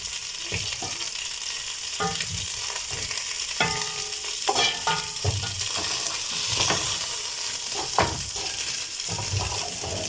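Chicken pieces, brined beforehand, sizzle in a pan with little or no oil while being stirred and turned. Steady frying hiss runs throughout, broken by repeated scraping and clinking strokes of the utensil against the pan.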